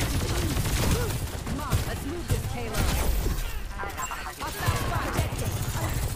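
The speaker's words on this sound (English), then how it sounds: "Widow's shooting me right now, but I have no idea where she is" Sniper rifle shots from Widow ring out in a busy video game firefight, sharp cracks scattered through dense, loud game noise of other gunfire and movement.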